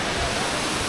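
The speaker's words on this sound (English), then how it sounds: "waterfall over there" A waterfall near a swimming spot sends out a steady, broad rushing roar that fills the moment without a break.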